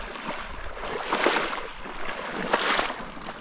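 Water sloshes and splashes in slow surges as a boat is pushed through shallows, with soft wind in the background.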